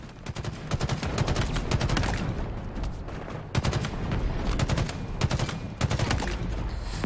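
Rapid bursts of battle rifle fire in the Halo Infinite campaign, loud close volleys of three-round shots repeating in dense clusters over a steady background of combat noise, with no speech.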